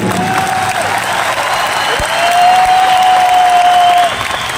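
Sustained applause from a big crowd in a stadium at an anniversary business event, steady and fairly loud, with a sustained tone running over the clapping.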